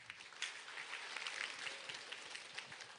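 An audience at a marketing seminar applauds steadily, a continuous patter of many hands clapping, heard from a slight distance and fairly soft.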